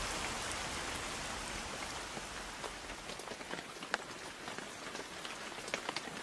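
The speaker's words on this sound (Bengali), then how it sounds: "দুপুরের পরে বৃষ্টি একটু কমে এলো" Light rain eases into a soft drizzle, a steady hiss of drops on surfaces with scattered sharper drips growing more distinct as it thins; no voices.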